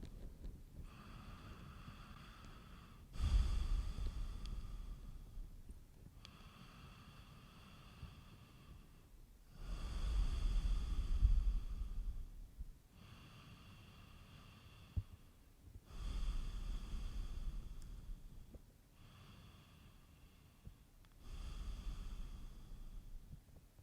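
Slow, deep yoga breathing: four long, airy exhales several seconds apart, close to the microphone, over a quiet background hiss with no speech.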